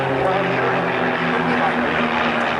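Aerobatic display team aircraft diving back down in formation at the 1991 RAF Valley air show on Anglesey, heard as a loud, steady engine roar with a low droning hum that holds throughout.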